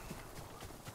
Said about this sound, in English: didn't mean to call the horse